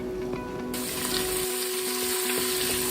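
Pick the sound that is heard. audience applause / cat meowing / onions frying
onions frying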